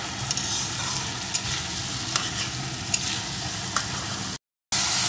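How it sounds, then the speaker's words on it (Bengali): Brinjal and tomato mixture for a Bengali baingan bharta sizzles steadily in a frying pan while a spatula stirs it with periodic scraping clicks, close and continuous, with a brief dropout near the end. "নাড়তে নাড়তে বেগুন টমেটো দিয়ে যে জলটা বার হয়েছে, জলটাকে কিন্তু একটু শুকিয়ে নিতে হবে।"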